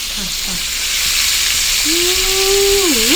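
Fish and shrimp deep frying in oil for po' boys: a loud, continuous sizzling hiss that builds slightly, with a few faint murmured words early on and a short hummed, gliding vocal tone near the end.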